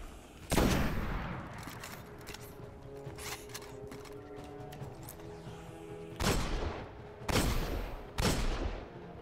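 Gunfire in the video game Destiny: The Taken King comes as loud, sharp bursts of automatic weapon fire, one early and several clustered near the end, with lighter shots and game effects between.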